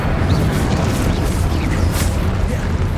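Incendio fire spell cast in the video game Hogwarts Legacy, a dense, continuous roaring burst of flame with booming low rumble that stays loud throughout.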